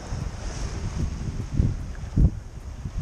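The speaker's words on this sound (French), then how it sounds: "le vent semble se calmer et en se calmant il adonne" Wind buffets a sailboat at sea near Majorca on a slightly rough sea, with a steady low rushing roar and a few heavier gusts, close and without talk.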